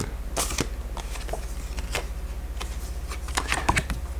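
Tarot cards being shuffled for a free-style draw, with a run of quick, light riffling flicks and taps in a steady irregular rhythm, close and fairly quiet.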